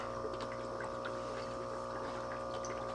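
An aquarium air pump pushes air into tap water for hatching brine shrimp, a steady continuous hum and bubbling with a faint tonal whine, close and unchanging throughout.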